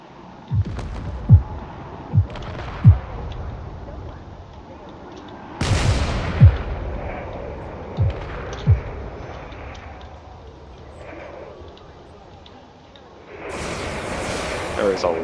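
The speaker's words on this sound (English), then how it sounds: "There's a lot of railgun fire coming in as well." Railgun fire in a space battle video game lands as a series of sharp, heavy booms, several spaced impacts over a low rumbling background, with a couple of bigger blasts. A narrator talks over the action.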